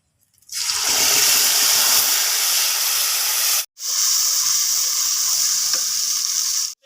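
Spice paste hitting hot oil with whole cumin, bursting into a loud, steady, hissing sizzle close up, cut by a brief pause before the sizzle resumes just as strongly.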